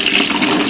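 Water bubbling hard in a cooking pot with whole onions and meat curry, prepared as a temple offering. A loud, steady, rushing boil continues without a break, with no voices.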